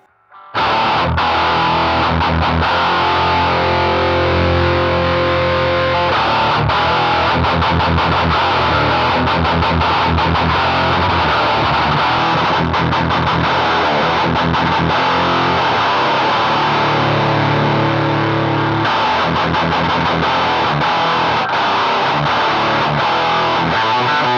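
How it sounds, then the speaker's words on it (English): A distorted electric guitar through an HM-2 pedal used as a preamp, distortion fully down with only the lead gain, plays continuously, loud and dense, with a gritty saturated tone and strummed chords throughout. "use the HM2 as a preamp by turning the distortion all the way down and using just the lead gain"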